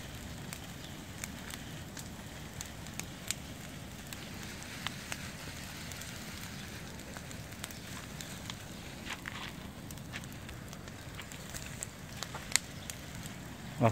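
Burning bushes crackle in an outdoor fire, a steady broadband hiss of flames with scattered sharp pops and snaps throughout, fairly faint and without speech.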